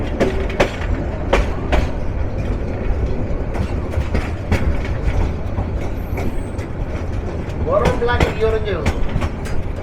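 The Kishoreganj Express, a passenger train bound for Dhaka, rolls along at steady speed. A loud, close, continuous rumble is heard with repeated clattering of wheels over rail joints. Faint voices are audible in the background.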